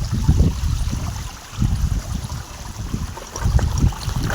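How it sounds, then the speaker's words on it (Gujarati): Water rushes and splashes in strong low bursts that swell and ease in waves, loud and close, with a steady broadband wash over the whole span and no voices. "જો પાણી કેમ આવે."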